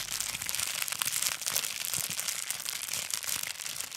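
A crinkly plastic package of chili powder is handled up close, giving a steady, dense crackle and rustle that runs continuously without pause or voices.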